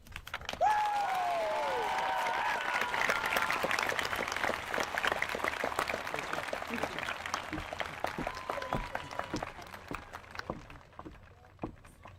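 A large crowd applauds at a high school graduation ceremony, dense sustained clapping from a big hall that slowly thins and fades, with a brief voice at the start.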